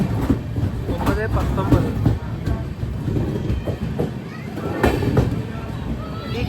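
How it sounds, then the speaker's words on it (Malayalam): The Sindhudurg Express rolls into Sindhudurg station on the Konkan Railway, its wheels clattering rhythmically with sharp clacks, loud and close, beneath someone speaking. "സിന്ധുദുർഗ് എക്സ്പ്രസ് അങ്ങനെ ഇതാ സിന്ധുദുർഗ് സ്റ്റേഷനിലേക്ക് എത്തുകയാണ്"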